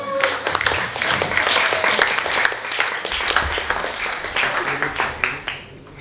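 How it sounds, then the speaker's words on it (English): Talk show studio audience applauding steadily, a dense continuous patter of many hands at moderate loudness that carries on for several seconds and tapers slightly at the end. "Give him a big applause!"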